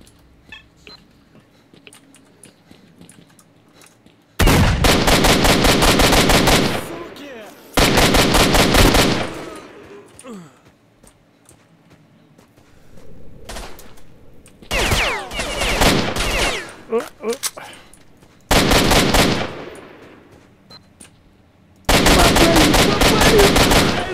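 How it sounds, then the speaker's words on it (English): Gunfire in S.T.A.L.K.E.R. Shadow of Chernobyl, loud bursts of rapid automatic fire in several separate volleys of a few seconds each, with quieter gaps between them. "Feels like there's somebody shooting me from up high."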